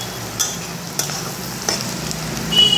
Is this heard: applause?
no